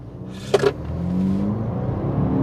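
A 2021 Jaguar F-Pace pulls away from a standstill in sport mode, its engine rising to a steady mid-pitched drone inside the cabin after a brief sharp click.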